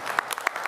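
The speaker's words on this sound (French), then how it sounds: "Applaudissez-la" Short burst of applause from a congregation in a church, a scattered patter of hand claps over less than a second, fairly close and moderately loud.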